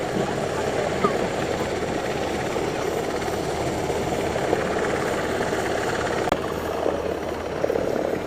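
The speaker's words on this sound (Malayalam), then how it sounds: "ഇപ്പോഴും ഹെലികോപ്റ്റർ ഇങ്ങനെ തന്നെ നിൽപ്പുണ്ട്." A helicopter hovers in place during a Saudi National Day show, its rotor drone continuous and steady at middle distance while someone talks over it.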